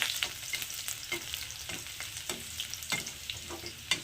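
Garlic frying lightly in oil for restaurant-style chilli paneer, a steady close sizzle broken by repeated stirring scrapes and clicks of a utensil in the pan.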